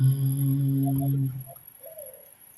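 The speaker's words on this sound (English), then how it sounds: "The birds." Pigeons or doves cooing nearby, a steady low throaty coo for about a second and a half, then a few faint softer calls trailing off into quiet.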